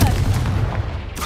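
A Confringo spell explosion in Hogwarts Legacy booms out as a single loud, close, heavy blast with a rumbling low-end decay.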